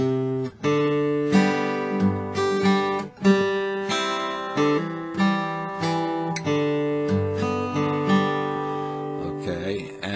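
An acoustic folk guitar fingerpicks the full top staff of a song, a steady stream of plucked notes and ringing chords heard close and alone for about ten seconds.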